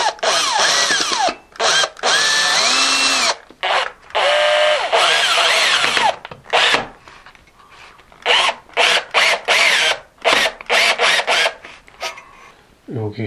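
A power drill bores a hole during a ceiling LED light installation, whirring in repeated loud bursts that start and stop, some long and others short, with brief pauses and a little speech in between.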